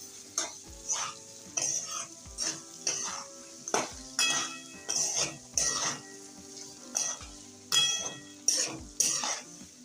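Spoon stirring vegetables and fennel seeds in a pan for batata poha, a series of rhythmic scraping strokes with light clinks of utensil on metal over a faint sizzle, close and clear with no talking.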